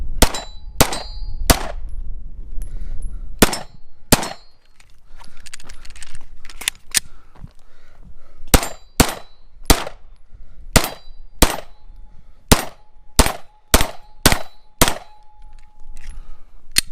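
Iron-sighted Glock 17 Gen5 MOS pistol fired at a steel target, about fifteen sharp loud reports in irregular bursts, many followed by a faint ringing clang from the steel.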